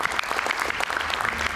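A studio audience at an Indonesian television talk show breaks into dense, steady applause, loud and continuous for the whole stretch with no break.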